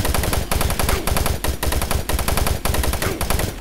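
Rapid automatic gunfire from a weapon in the video game Doom 3, loud and sustained bursts broken by brief gaps, firing almost continuously with no voices over it.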